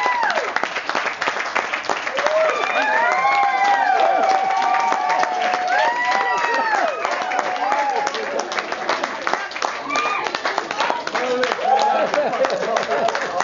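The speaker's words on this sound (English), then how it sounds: "Big hand again there for Joe Lynch" Audience at a poetry performance breaks into sustained, loud applause with cheering and whoops, a dense roar of clapping filling the hall throughout.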